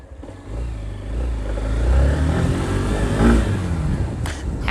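A Hero Xtreme 160R motorcycle accelerates, its engine rising to a steady loud drone with wind rush, close and continuous.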